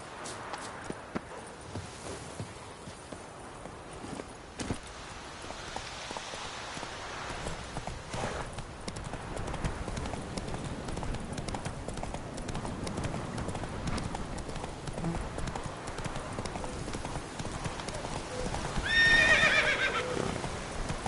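Hoofbeats of a horse clip-clopping steadily in The Witcher 3, continuous throughout, with a louder neigh near the end.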